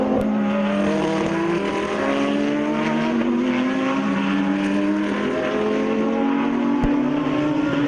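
BMW and Porsche GT3 race cars battling on a circuit, engines wailing with rising pitch through repeated gear changes, loud and continuous as the cars pass close by.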